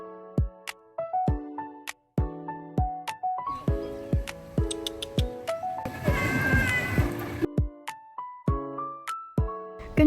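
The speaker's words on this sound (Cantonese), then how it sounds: "估唔到喺公園都可以見到超多貓咯。" Cats in a park meow again and again, a quick series of short, close, high-pitched cries, some overlapping, with a brief noisy patch partway through.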